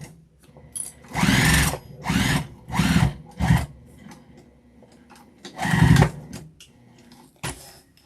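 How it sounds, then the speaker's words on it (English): Sewing machine stitching along the edge of a tote bag, running in several short bursts of steady mechanical whirring separated by brief pauses, close and loud. "And sew along the edge."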